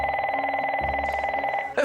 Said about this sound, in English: The phone doesn't stop ringing. It's constantly ringing.